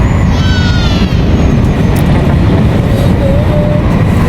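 Steady loud rumble of a double-decker train in motion in Barcelona, continuous rolling noise with faint high squeals and rattles throughout.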